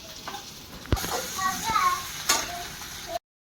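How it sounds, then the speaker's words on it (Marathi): Mustard seeds, cumin, ginger, garlic, chilli and curry leaves crackle and sizzle in hot oil as tempering for village-style vada, with spoon clinks and voices talking nearby. "वडा बनवायला फोडणी देते"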